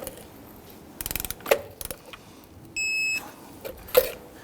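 A torque wrench on the steel-wheel lug nuts of a 2007-2021 Toyota Tundra gives several quick ratcheting clicks, sharp metallic taps, and a brief steady electronic tone partway through, close and fairly quiet.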